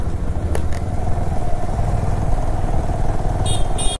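Motorcycles on a group ride toward Nepal, with a steady engine drone and road rumble that continue throughout, loud and close, plus faint clatter and a couple of brief high chirps near the end.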